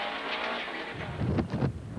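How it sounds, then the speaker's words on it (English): Subaru Impreza rally car engine heard from inside the dusty cabin on a stage, a muffled steady drone that rises into sharper bursts of revving and gear changes in the second half. "As we ride along with Vincent and Cyr in their Subaru Impreza"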